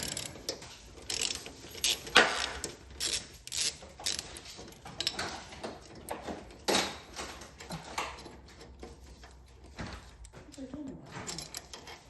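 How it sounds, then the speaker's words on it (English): A 3/8 ratchet works a bolt loose on a Craftsman brake, giving bursts of clicking and metallic clatter in uneven spurts, close up, with someone talking at points. "And then once you remove this bolt,"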